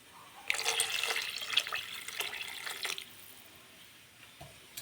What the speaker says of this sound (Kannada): ಈಗ ಇದಕ್ಕೆ ಎಷ್ಟು ಗಟ್ಟಿ ಬೇಕು ಎಷ್ಟು ತಿಳಿಯೋಕೆ ಬೇಕೋ ಅಷ್ಟು ತೆಳುವಿಗೆ ನೀರು ಹಾಕ್ಕೊಳ್ಳೋಣ